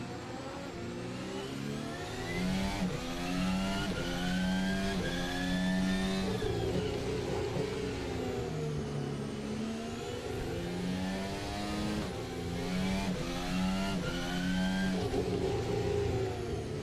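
Formula 1 car in the Assetto Corsa racing game, a high-pitched engine note rising and dropping through repeated upshifts and revs, sustained and loud across the whole run with no voices.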